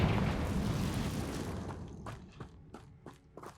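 A Confringo fire spell blast in Hogwarts Legacy bursts out loudly at the start, a broad fiery roar that fades over a couple of seconds, followed by a few sharp, fainter pops and impacts.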